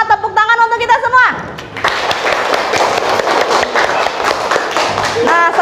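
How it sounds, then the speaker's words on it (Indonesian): A class of primary school students claps hands in a quick, busy patter after a short singing voice at the start, with a voice returning near the end. "Tepuk tangan untuk kita semua."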